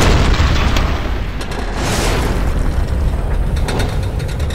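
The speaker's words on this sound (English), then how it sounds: "Everything's exploding." Explosions go off in the video game Tomb Raider, loud booming blasts with rumbling, crackling debris and clanking mechanical rattles that fill the whole stretch without pause.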